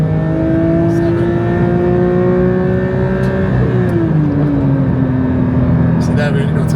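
The engine of a Porsche 992 GT3 revs close up, a loud, continuous high-pitched howl that climbs steadily, dips briefly and rises again, with a voice talking under it.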